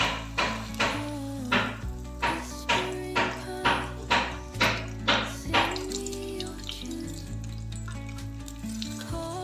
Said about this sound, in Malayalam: ആ ബ്രെഡ് ഒന്ന് പൊരിച്ചെടുക്കാൻ വേണ്ടിയിട്ട് കേട്ടോ